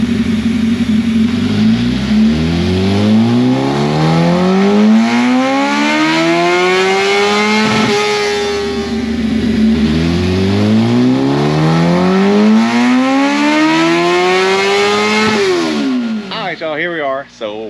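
A 2005 first-generation Kawasaki ZX10R motorcycle revs on a dyno, engine pitch climbing in two long, loud full-throttle pulls that end abruptly before a brief idle burble.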